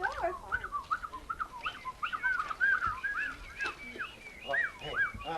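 People at a nature center's opening day whistle imitations of bird calls, a string of short rising and falling whistled notes at moderate distance, with faint crowd murmur underneath.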